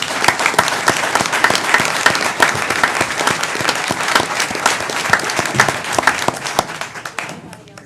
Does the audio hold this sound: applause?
yes